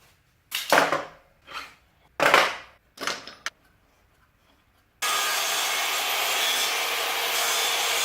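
A saw cuts a piece off a wooden block meant for a chef knife handle: four separate rasping strokes with pauses, then a loud, continuous, close sawing noise that runs to the end.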